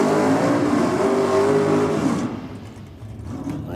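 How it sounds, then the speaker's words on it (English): A Ford Falcon drag car with a Cleveland engine revs hard at a no-prep drag racing meet, a loud, steady, throaty roar that drops away after a couple of seconds. "Plenty of RPM from the Cleveland power plant down there."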